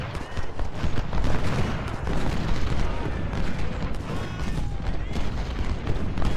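Long-range artillery booms and flanking musket volleys in the Ultimate General: Civil War Battle of Cross Keys game, a dense continuous roar of overlapping shots and blasts with no speech over it.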